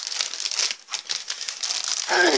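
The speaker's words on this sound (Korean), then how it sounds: "랩핑지가 네 종류가 왔어요 이것부터 뜯어볼게요" Plastic wrapping paper crinkles and tears continuously as a package is ripped open up close, with a sharper rip near the end.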